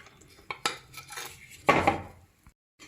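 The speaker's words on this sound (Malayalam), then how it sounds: "ഇതിലോട്ട് നമുക്ക് മാങ്ങയുടെ ഓരോ പീസുകളായിട്ട് ഇങ്ങനെ ഇട്ട് കൊടുക്കാം. ഞാൻ മൺചട്ടിയിലാണ് തയ്യാറാക്കുന്നത്." Mango pieces dropped into an earthen clay pot for pickle, giving a few close clinks and knocks in quick bursts, the last cluster loudest, then a short silence.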